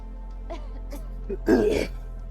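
A single harsh cough or throat-clearing burst near the microphone, preceded by faint murmuring and quiet shuffling.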